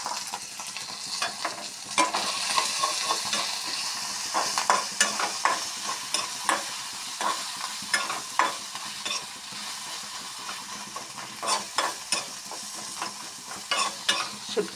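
Dried fish fries in a pan with salt, turmeric, green chillies and chilli powder, giving a soft sizzle broken by repeated scraping stir strokes, close and fairly quiet, with no talking.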